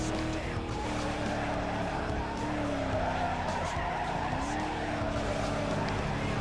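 A Mustang in Need for Speed Most Wanted 2005 revs and accelerates hard, its engine droning and rising in pitch while tires squeal and skid, loud and continuous throughout.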